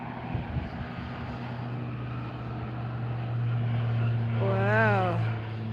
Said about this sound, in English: So he's flying over the airstrip. That's interesting. That's a gorgeous aircraft.